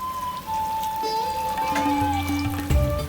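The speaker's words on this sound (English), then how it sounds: "And now we should add more water." Water poured into a pot of khichdi, a steady trickling pour running close and alone for a few seconds, with a heavier gush near the end.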